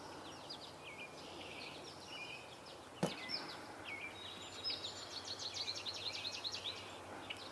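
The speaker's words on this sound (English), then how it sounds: "Hearing a robin sing now." An American robin sings in an outdoor wetland setting with lily pads, its phrases faint and distant, repeated in short bursts over steady background ambience, with one sharp click partway through.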